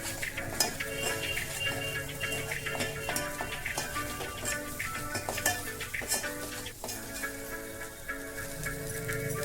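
Spiced masala for egg curry roasting in oil, with a steady soft sizzle and the scrape and clink of a spoon stirring against the pan, fairly quiet and close with no talking.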